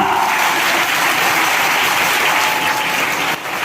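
A church congregation claps loudly and continuously, a dense, even roar of applause that fills the room and fades slightly at the very end.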